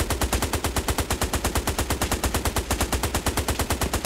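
Rapid machine-gun fire from the Hell Let Loose war game rattles in a fast, even stream of loud shots, sustained without pause.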